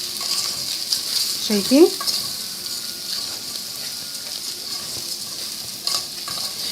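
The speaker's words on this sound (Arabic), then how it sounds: "هشوح الرز شويه كده" Rice being stir-fried in a hot pan, a continuous sizzle with scraping and stirring, while someone speaks briefly in Arabic partway through.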